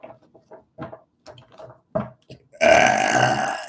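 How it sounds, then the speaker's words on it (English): A single long, loud burp bursts out after a stretch of quiet speech, rumbling on for about a second before fading slightly. "By the way, Spirit makes me burp for those of you who are unaware."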